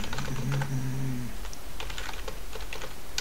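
Quick, steady typing on a computer keyboard, close and clear, with light clicking keystrokes over a constant background hum.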